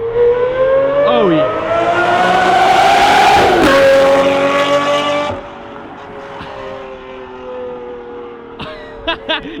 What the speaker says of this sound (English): There's no car that sounds that good, that beefy when you fly by